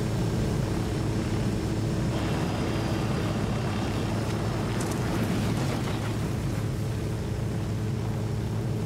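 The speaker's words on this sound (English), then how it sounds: "Well, the chopper seems intent on killing us all." A helicopter in the tactical shooter game Wildlands produces a dense, continuous engine and rotor roar, loud and close, holding steady throughout with no pauses.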